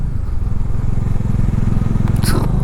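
A motorbike rides along a road beside a wide river, its engine a steady low throbbing drone close by, with a brief scrape or clatter near the end.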